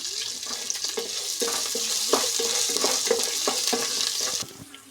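Ginger, curry leaves and green chillies sizzle steadily in a hot pan for curd rice, with repeated stirring scrapes over the frying, before the sound drops off near the end.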